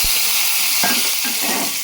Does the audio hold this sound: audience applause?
no